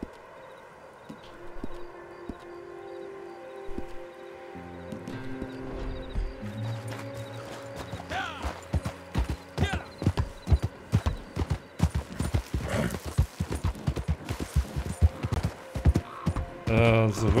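Horse hooves clip-clopping in Red Dead Redemption, starting sparse and building into a fast, loud galloping rhythm with a brief whinny, over game music and ambience.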